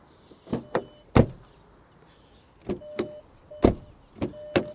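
A 2025 Cupra Leon VZ-Line door is shut several times in a row: sharp, solid thuds with metallic latch clicks, close and loud, separated by short quiet gaps.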